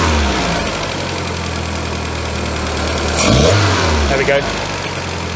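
A VW MK2 Scirocco engine runs with a lean sputter, idling loud and close with an uneven, rough rumble and a brief rise in revs, while a voice speaks briefly over it.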